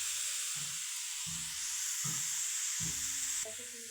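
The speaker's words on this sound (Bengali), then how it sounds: "এবার আমি পেঁয়াজটাকে হালকা একটু নেড়ে নেব" Onion, garlic and chili fry in a pan before cabbage and carrot go in for veg momo filling, a faint even hiss under four soft low thuds of stirring, quiet and close.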